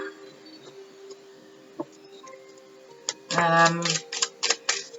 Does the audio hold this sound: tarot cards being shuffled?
yes